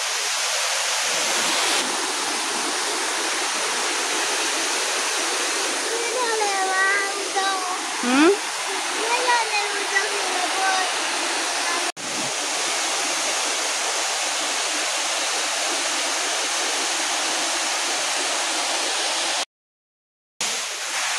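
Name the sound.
waterfall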